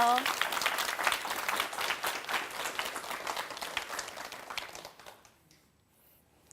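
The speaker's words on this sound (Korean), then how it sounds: "여러분 큰 박수로 맞이해 주시기 바랍니다" An audience at a health lecture claps to welcome the cooking pharmacist Han Hyung-seon onto the stage, brisk clapping that gradually thins out and fades to quiet after about five seconds, with a voice heard over it.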